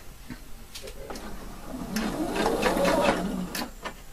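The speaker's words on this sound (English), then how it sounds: "I'm going to sew exactly in the middle of this piping" Sewing machine stitching through piping for a double welt pocket, a close steady mechanical whir that speeds up in the middle and then stops.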